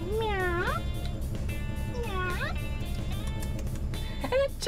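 A human voice imitates a cat, giving two drawn-out playful meows with a shorter one at the end, loud and close over a steady engine-like hum.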